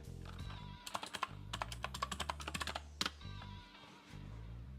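Close-miked typing on a computer keyboard, rapid clattering keystrokes in quick bursts with brief pauses over a low steady hum, no voices.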